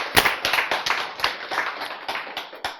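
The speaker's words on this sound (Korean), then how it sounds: "박수." A church audience claps together after a sermon point about a repaired gene, with a steady run of sharp, moderately loud hand claps that slowly fade over a few seconds.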